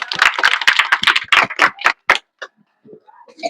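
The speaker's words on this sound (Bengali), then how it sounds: "তো রাকিবের জন্য একটা জোরে হাততালি হয়ে যাক।" Children clap for a lottery winner, a dense burst of quick, overlapping claps for about two seconds that thins into a few scattered claps.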